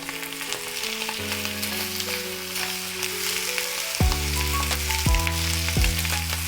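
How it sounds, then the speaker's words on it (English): Spinach puree sizzles with masala in a pan for palak paneer, a loud continuous frying hiss with a few scraping stirs and sharp knocks, no voices. "Now I am going to add spinach puree into it."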